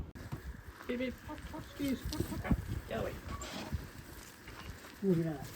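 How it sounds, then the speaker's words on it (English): Backyard chickens cluck and call intermittently in a coop, their short bursts scattered and moderately close amid outdoor ambience, with a person talking at times. "getting a couple more chooks to expand the coop, but for now we've just got the original 4"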